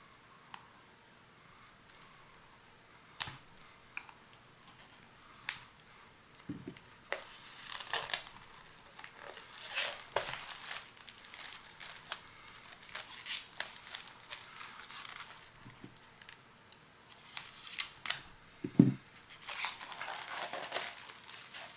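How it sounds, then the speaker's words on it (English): Blade slicing open the plastic wrap on a boxed Warhammer 40000 Kill Team Octarius set, scattered crinkles, snips and clicks of packaging close by, fairly quiet and irregular, without talk. "Let's go ahead and cut this open."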